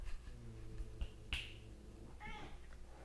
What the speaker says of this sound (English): there's a little cat fight happening next to me